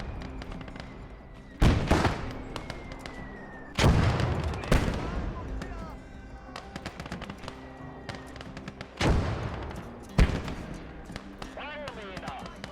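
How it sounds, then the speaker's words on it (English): Mortar rounds firing in a military video game, several deep booming launches at irregular intervals with ringing tails between them, loud and close, over a low ambient hum. "I'm gonna let the mortar do its thing."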